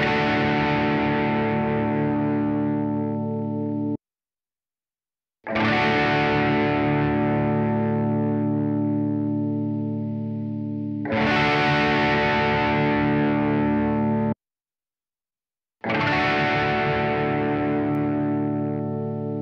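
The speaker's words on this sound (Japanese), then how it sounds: "じゃあ次、オーバードライブで聴き比べましょうか。" An electric guitar with overdrive, set to a Buzz Feiten-style tuning, rings out four loud sustained distorted chords, each fading slowly before a short silence and the next strum.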